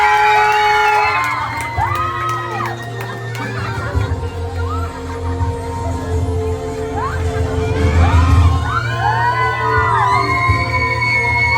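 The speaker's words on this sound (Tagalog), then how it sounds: "Palakpakan for our darling of the crowd, Kia De Los Santos!" A crowd at a Little Miss Barangay pageant in the Philippines cheers, whoops and shouts loudly, with children's high shrieks rising and falling across the scene and a swell of excitement near the end.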